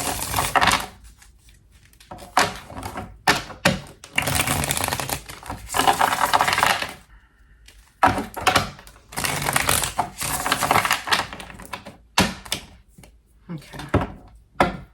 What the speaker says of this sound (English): We're going to go ahead and get a good little shuffle in for you.